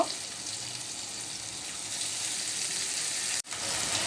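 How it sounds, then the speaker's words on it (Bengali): Potatoes and chilli paste with turmeric sautéing in a little water in a pan for a fish curry, a continuous close hiss that holds steady and breaks off briefly near the end. "অল্প পানি দিয়ে কষিয়ে নিব"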